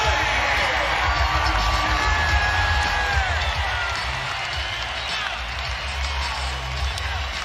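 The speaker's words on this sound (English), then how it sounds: "And the crowd explodes." NBA arena crowd for Philadelphia 76ers vs Oklahoma City Thunder erupting after a Gallinari three-pointer in overtime, a loud sustained roar of cheering and whooping that stays dense and steady throughout.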